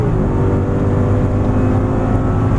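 An Audi R8 engine on the Exotics Racing track in Las Vegas drones loudly and close up, a steady heavy roar with a rising tone, sounding from inside the car.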